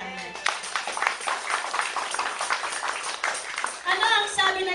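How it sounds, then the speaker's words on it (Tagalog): A church congregation applauding, a dense steady patter of many hands clapping at moderate distance, with a voice speaking over it near the end. "Pumalakpak po tayo."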